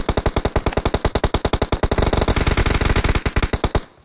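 Automatic gunfire in PUBG Mobile rattles out in a long, rapid, evenly spaced burst of loud shots, close and continuous, stopping abruptly just before the end.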